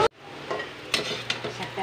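Kikiam and sweet corn frying in hot oil, sizzling steadily with several sharp pops and crackles spaced across a short stretch, close up, along with faint utensil clinks.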